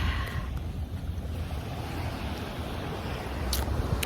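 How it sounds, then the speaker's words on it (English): Ocean waves wash against the shore in Hawaii, a steady, loud, broadband rush of surf with some wind buffeting the microphone and no talking. "I'm gonna just hope the water's not too loud"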